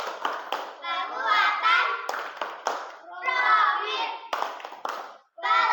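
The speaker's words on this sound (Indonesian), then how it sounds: "Anak-anakku sekalian, tepuk P5." Elementary schoolchildren in Indonesia perform a rhythmic clapping chant, with sharp hand claps punctuating their sung and spoken words in a quick, patterned beat.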